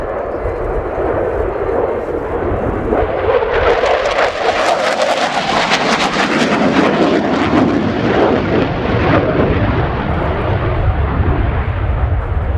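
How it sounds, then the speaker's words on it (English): A Belgian Air Component F-16AM Fighting Falcon jet roars through a flying display at an airshow, its loud broadband engine noise building and sweeping past with a rumbling, shifting whoosh that holds strong throughout. "the F-16's agility, one of the key factors that has made it among the greatest fighter aircraft of all time"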